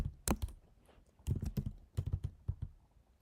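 Soft keystrokes on a computer keyboard come in uneven bursts and short pauses while someone types code, fairly close and quiet, with no voices.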